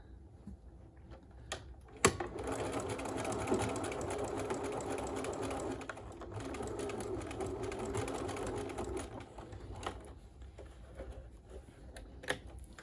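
A sewing machine stitches a homemade fabric face mask, its motor running in a steady whirring rattle for several seconds after a sharp click, then slowing and stopping among quieter clicks and handling sounds.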